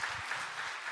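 A church congregation applauds during a Sunday worship service, a brief, quiet, even wash of many hands clapping together.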